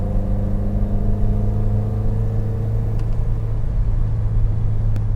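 A car pulls hard along a road, its engine rumbling and whirring loudly and steadily as it accelerates, with no voices over it.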